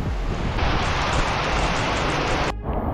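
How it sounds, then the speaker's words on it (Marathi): Strong wind gusts through a heavy monsoon downpour, a dense, loud, continuous roar of air and rain with no voices. "वारा किती सुटलाय"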